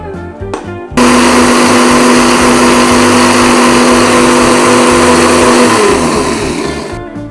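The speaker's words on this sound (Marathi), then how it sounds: "ह्याची थोडीशी अजून थिक कन्सिस्टन्सी करायला थोडस अजून मिक्सरमध्ये आपण फिरूया" A mixer grinder whirs loud and steady for several seconds as it blends homemade mayonnaise from oil, milk and a pinch of salt, then winds down near the end.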